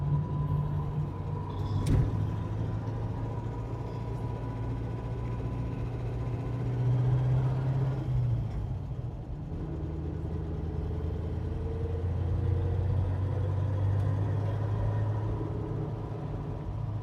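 A 1948 Buick Super Woody Wagon's engine rumbles steadily while driving, a low, even drone heard from inside the car with slight swells as the throttle changes and no clear pass-by.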